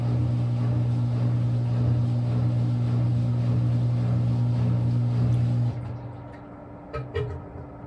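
Maytag washing machine on a low-speed drain and spin cycle, a loud steady motor hum and whirring drum that cut off abruptly near the end, leaving a quieter settling rattle and a couple of faint knocks.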